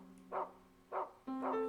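A dog barks three times in quick succession, clear, close and fairly loud, with short pauses and a faint hum between the barks.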